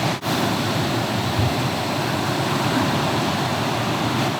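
Steady ocean surf rushes and washes continuously on a beach, a loud broadband roar with no pauses, briefly dipping near the start, with no voices over it.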